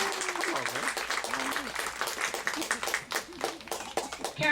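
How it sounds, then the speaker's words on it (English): An audience at a flamingo show in Ardastra Gardens claps in scattered, patchy applause while a person's voice talks over it throughout. "let's give them a nice round of applause as they come to their first stop"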